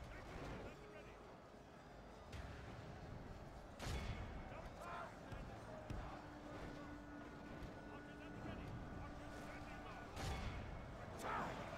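Troops fire in a Third Age DAC battle, with a dense wash of volleys, booms and clashes at moderate loudness and heavier bursts at intervals, and voices talk over the din.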